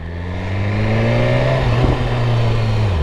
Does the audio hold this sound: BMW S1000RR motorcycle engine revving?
yes